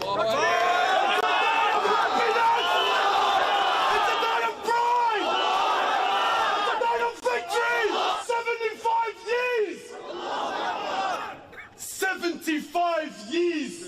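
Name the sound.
crowd cheering at a rally, man on loudspeaker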